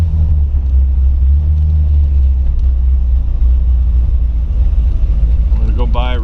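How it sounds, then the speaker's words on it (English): 1928 Ford Tudor all-steel street rod on a Pete and Jake's chassis rolling over small speed bumps, a loud steady low engine rumble and road drone filling the whole stretch with no clear thumps standing out. "this car with the Pete and Jake's chassis goes over these little speed bumps with the greatest of ease."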